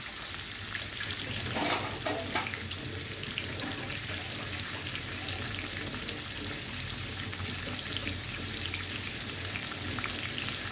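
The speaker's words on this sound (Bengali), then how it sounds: "প্রথমে চাল কুমড়াগুলো ভেজে নিচ্ছি" Pieces of ash gourd coated in turmeric and chili frying in a pan, a constant hissing sizzle with a few brief clinks or stirs early on, close but fairly quiet and without talk.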